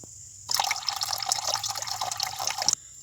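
Rinse water pours steadily off crushed quartz rock material in a pot during gold recovery, a continuous close splashing stream lasting about two seconds, then stopping abruptly.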